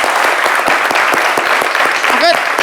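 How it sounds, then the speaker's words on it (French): A studio audience at a television talk show applauds loudly with dense, continuous clapping, and a brief whistle or voice rises above it near the end. "Applaudissez pour la Côte d'Ivoire."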